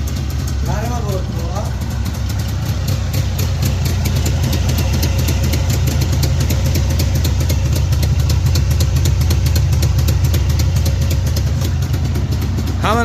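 A car engine runs steadily at idle throughout, a continuous low rumble with faint vibration and voices talking over it.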